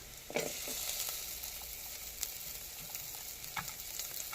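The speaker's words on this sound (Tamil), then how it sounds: "இப்போ நான் பூண்டு போட போகிறேன் பாருங்கள் பூண்டு" Garlic frying in a pan for chicken kabsa: a soft, steady sizzle of hot oil with a few light clicks and pops, fairly quiet and close.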